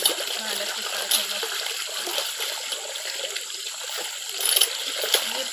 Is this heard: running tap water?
yes